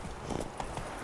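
Horse hooves clip-clopping at a gallop in The Witcher 3, a steady rhythmic pounding of the ridden horse close up, continuous through the short moment with no talk.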